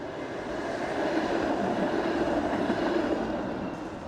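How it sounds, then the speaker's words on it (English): A streetcar passing by on a cloudy city street, a steady rumbling roll with faint rail clatter that swells and fades slightly, heard from nearby without talk. "we got a streetcar"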